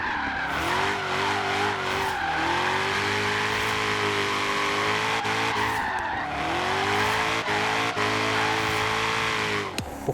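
A Shelby GT350R Mustang drifts in Forza Horizon 3, its engine holding a loud, steady high-revving drone with continuous tire squeal and brief dips in pitch between corners, with no talking.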